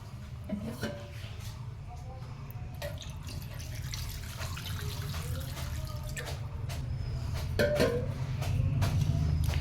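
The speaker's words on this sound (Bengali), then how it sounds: "আর একটু জল দিয়ে দিই" Water poured into a simmering pot of desi chicken curry, a soft steady trickle and bubbling over a low kitchen hum, growing slightly louder toward the end, with no talking.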